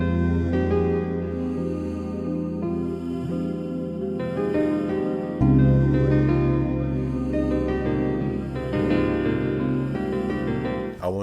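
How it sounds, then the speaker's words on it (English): Piano melody layered into a Detroit-style hip-hop beat, with sustained harmonic chords over heavy low-end bass, continuous and loud throughout, getting fuller about halfway through. "And then I added the piano."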